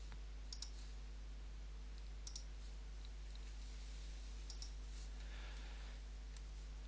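A computer mouse gives a few faint, sharp clicks spaced a couple of seconds apart over a steady low electrical hum.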